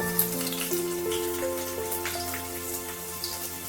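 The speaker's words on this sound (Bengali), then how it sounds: "এবার তেলের মধ্যে, তেলটা একটু গরম হওয়ার পর আর কি, এখানে কিছু রসুন কুচি দিয়ে দিচ্ছি" Chopped garlic sizzles in hot mustard oil, a steady close crackle and spatter of frying that lasts the whole moment without any talking.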